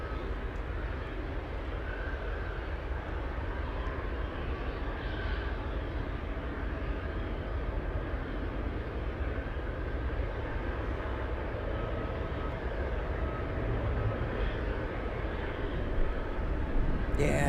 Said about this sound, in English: Cargo, big 747 flying in from Narita